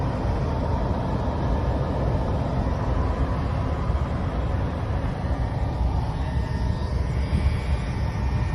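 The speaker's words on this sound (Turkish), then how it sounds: "Uçağın içindeyiz." Steady aircraft engine roar inside an airplane cabin parked during heavy snow, a dense continuous broadband drone holding at one even level throughout with no speech.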